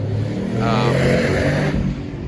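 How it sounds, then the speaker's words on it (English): A freshly rebuilt engine in a 1971 MGB GT coupe with a 4-speed revs up and holds, a loud, close growl that rises and falls over about two seconds, with a voice talking alongside. "engine revs great, but it's kind of still settling in because it's a brand new engine"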